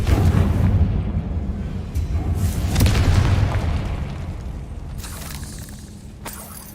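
Deep booming blast of the Confringo explosion spell in Hogwarts Legacy, a loud burst with a rumbling tail that slowly fades, followed by a couple of sharp pops.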